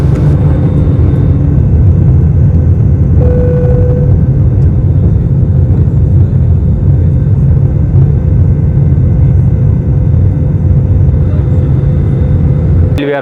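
Steady, loud engine drone fills an airliner cabin in flight as it descends toward Kathmandu airport among high mountains, a continuous low roar and whir that holds evenly throughout.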